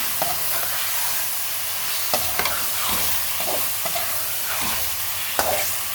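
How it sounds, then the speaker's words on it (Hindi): Chicken browning in spiced masala in a pan for Delhi biryani gives a steady close sizzle, and a spoon scrapes and stirs through it in irregular clicks. "तब हम इसको अच्छी तरह से मसाले में चिकन को भून लेंगे।"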